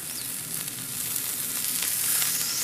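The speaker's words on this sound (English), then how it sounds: "Let that fat cook down a little." Beef fat from a ribeye sizzling on a disc grill with a little salt, a continuous close crackling hiss with faint stirring, no talk.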